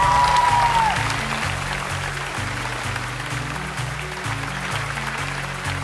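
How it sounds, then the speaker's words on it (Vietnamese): Studio audience applause welcoming the hosts on a Vietnamese comedy game show, a steady dense clapping wash over loud stage music throughout, with a brief announcer voice at the start. "chúng ta sẽ dành một tràng pháo tay thật nồng nhiệt để chào đón các vị trưởng phòng"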